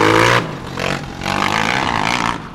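A loud, noisy motocross motorcycle passes close by on a road during a practical driving test, its engine revving and roaring in surges before fading slightly, with no talk.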